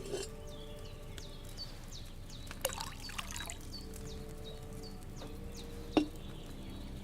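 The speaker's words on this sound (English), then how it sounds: "First, you have to pour the right base into the cauldron." In Kingdom Come: Deliverance 2, a thin trickle of wine pours briefly into a cauldron, set against a steady game ambient backdrop with soft chirps and a small clink near the end.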